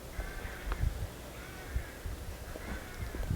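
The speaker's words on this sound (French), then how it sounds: "Vous entendez les corbeaux?" Crows call in three short harsh bursts out in the open near the Voie des Viennes, each set apart by a pause, the calls fairly faint over a low rumble of wind.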